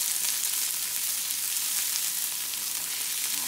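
Food sizzles steadily in olive oil heated for a minute in a pan, a continuous, close, even frying hiss with no pauses and no voices.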